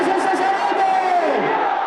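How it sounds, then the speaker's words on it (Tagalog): A dense crowd of devotees cheers, whoops and shouts at Quiapo Church as the Black Nazarene image arrives. The roar is loud and sustained, with one rising and falling wail standing out above the mass of voices. "Binalot ng mga ingay at hiyawan ng mga deboto ang buong Quiapo Church"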